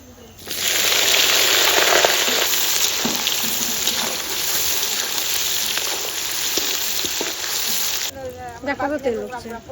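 Whole garam masala, cumin, dried red chillies and onion hit hot oil in a pan, giving a loud, steady broadband sizzle that runs for about eight seconds before fading, with a few faint clinks.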